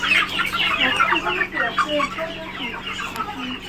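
Several BLRI hilly-breed chickens cluck and chatter close by in a busy, overlapping stream on a farm, with a low steady hum underneath.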